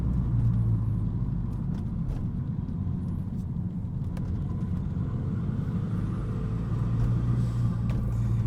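A Renault Megane RS RB8 idles in sports mode with a deep, steady rumbling burble, close and loud, with no talk over it.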